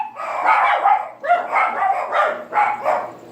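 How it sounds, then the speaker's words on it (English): A small dog barks during bath time at a Coton breeder's home, about five sharp, close, loud barks in a quick, uneven series. "Sorry about the barking."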